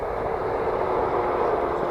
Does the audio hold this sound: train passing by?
yes